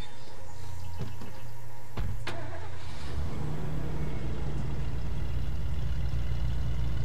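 A truck engine starts up in the State of Decay video game, its low rumble settling into a steady, loud idle that runs throughout, with a couple of sharp clunks near the start.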